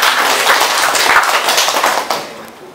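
Audience at a marketing training session clapping hands together, a dense steady patter of many hands that fades slightly toward the end.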